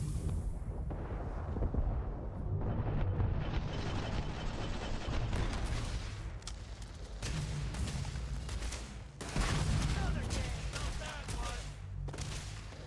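Grenade explosions and gunfire in the video game Starfield, a continuous rumbling battle of booms and crackling shots at fairly low level, with brief drops between bursts.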